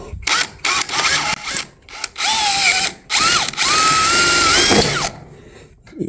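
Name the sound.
driving a self-tapping screw into trailer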